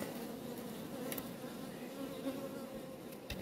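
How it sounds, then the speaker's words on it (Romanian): Honeybees shaken off a hive frame swarm close by in a steady, dense buzz that holds throughout with no voices. "La fel, scutura albina să vedem dacă sare pe mine."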